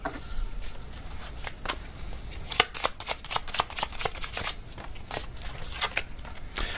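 Tarot cards being shuffled close up, a run of crisp riffling flutters and snaps in irregular bursts, with no talk.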